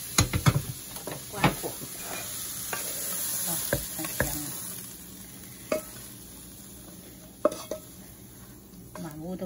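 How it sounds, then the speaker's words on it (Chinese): Salt and pepper egg tofu sizzles in a pan under a constant frying hiss, while a spatula scrapes and knocks against the wok in irregular stirring strokes. "炒个1分钟就好了"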